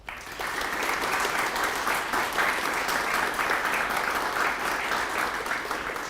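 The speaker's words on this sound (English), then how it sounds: "But the winner is, round of applause, Unex Traffic." Sustained audience applause at a live 2021 ITS (UK) Awards ceremony greets an award winner, a steady dense clatter of many hands filling the room for six seconds with no talk over it.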